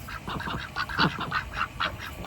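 A drake duck on a farm gives a string of raspy, buzzy quacks in quick succession, heard close over faint background noise.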